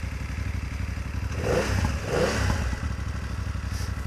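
A 2024 BMW F900 GS motorcycle engine burbles through its exhaust at low revs, a steady rumbling pulse with two brief swells of revving, close and loud with no talk.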